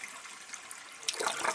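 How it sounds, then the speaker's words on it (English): Wash water drains from a sink after an antique doll's old fabric dress is cleaned, a quiet trickle that swells into a gurgling rush near the end. "The water can be drained."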